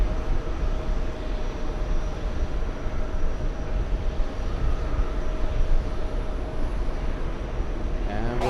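Airplane flying overhead toward Anchorage, heard as a steady, broad engine roar that holds at constant loudness throughout, with a faint rising whine near the end.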